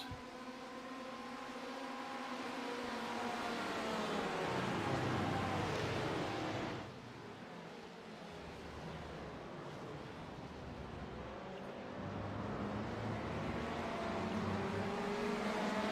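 Race cars in an endurance racing video game stream through corners, a continuous blend of engine whine and rushing noise that dips briefly midway and swells again, fairly faint with no talk.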